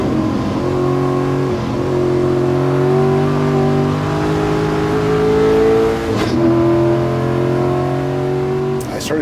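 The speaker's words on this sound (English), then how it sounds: "Sold-out crowd and a sold-out field, 50-plus cars." Race cars in a Gridlife Touring Cup sprint race at the Gridlife Midwest Festival, a sold-out field of 50-plus grassroots racers. Loud, continuous engine drone throughout, with the pitch climbing and shifting as engines rev and cars pass close by.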